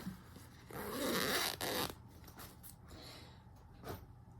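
A zipper on a Como Stitches fabric project bag slides open in one long, loud, close rasping pull, followed by a few softer clicks and rustles of the fabric.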